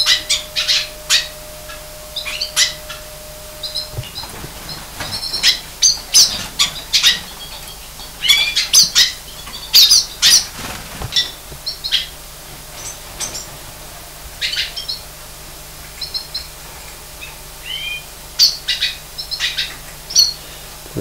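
Black siskins (Spinus atratus) in a breeding cage or aviary call repeatedly: a lively series of thin, high chirps and twitters in irregular bursts, close and fairly clear over a steady low hum.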